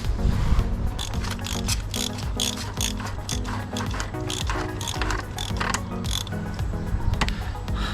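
A ratchet clicks in quick bursts while tightening the oil filter housing on a BMW N47 or N57 diesel engine, close and crisp with repeated short ratcheting strokes and no speech.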